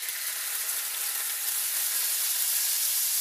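Minced garlic and sliced onion sizzling in about two tablespoons of preheated coconut oil for a healthy curry shrimp dish, a steady close, bright frying hiss that holds even and continuous throughout with no talking.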